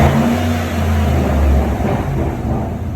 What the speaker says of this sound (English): Hit the gas and get off of it. Let's hear that turbo shoot.